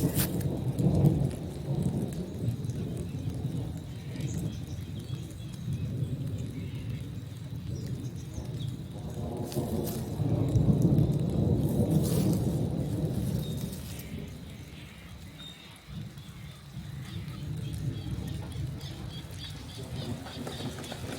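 Rain patters steadily on a creek while deep thunder rolls and swells in the distance during a severe storm in Victoria, Australia, building to a louder rumble midway before easing off.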